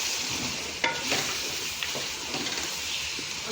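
Chicken with browned onions and tomatoes fries in a pan, a close, continuous sizzle with stirring scrapes and a few sharp clinks of a utensil.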